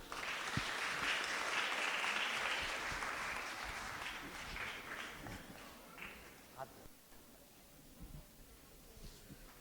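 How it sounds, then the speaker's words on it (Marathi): A wedding audience claps in a dense, even patter that slowly thins out and fades, with scattered voices under it. "टाळ्या वाजवूया आपण."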